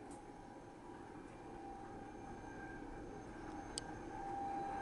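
A model train runs at a set low speed of 11 cm/s in a university senior design demo, then stops under automated halt control; a steady low mechanical rumble with faint hum continues throughout, with a brief click near the end.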